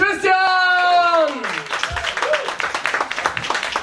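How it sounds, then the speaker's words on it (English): At a dark comedy stand-up show, the audience breaks into loud applause with cheers and whoops for the second host. An announcer's voice rings out at the start, and the clapping carries on as a dense patter. "please help me give a massive round of applause to the second host of this evening"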